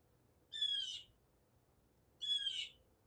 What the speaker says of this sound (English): Sound of the birds, always lovely.